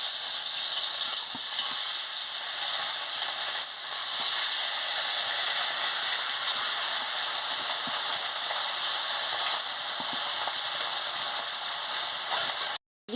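Catla fish sizzles in hot oil in a wok, a loud, steady frying hiss that runs unbroken for several seconds before cutting off abruptly at the end.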